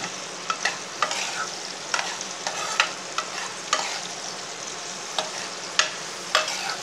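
Bitter gourd frying in oil in a pan for tamarind curry, a steady sizzle broken by sharp scraping clicks as a spoon stirs every second or so, close and moderately loud.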